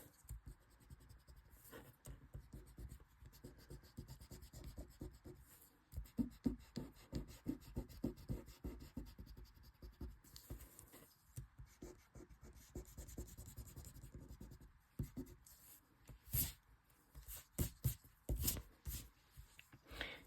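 An eraser rubbing pencil guidelines off a tile: continuous close scratchy back-and-forth scrubbing with quick rhythmic strokes, briefly pausing and then resuming in sharper bursts toward the end.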